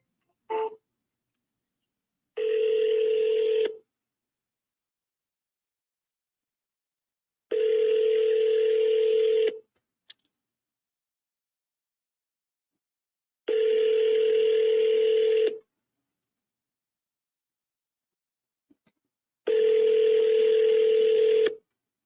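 Telephone call tones: a short burst of dialing beeps, then four evenly spaced ringback tones, each about two seconds long with silent gaps between, clear and alone.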